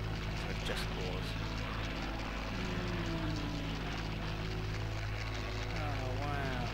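Propeller warplane engine from a Battle of Britain era combat flight game, a steady loud droning hum with shifting pitch whines running throughout, with a voice talking over it.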